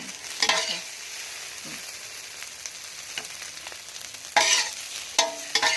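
A Thai mussel pancake (hoi tod) fries and sizzles in oil, with intermittent scraping and stirring bursts as it is scooped onto a plate, heard close with no talking.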